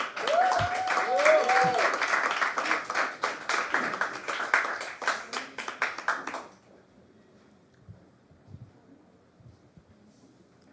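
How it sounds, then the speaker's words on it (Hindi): Enthusiastic audience applause at a Hindi poetry open mic, welcoming the next artist with loud, dense clapping and a few cheers for about six seconds before it cuts off abruptly, leaving a quiet room with faint murmurs. "जो अगले आर्टिस्ट हमारे आएंगे उनके लिए एक बार जोरदार तालियों से स्वागत कीजिए"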